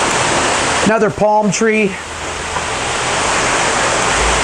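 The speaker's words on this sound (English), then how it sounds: "You got a waterfall right here." Steady broadband rush of water from a waterfall spilling into a landscaped backyard pool, a continuous hiss heard throughout, briefly under a man's speech.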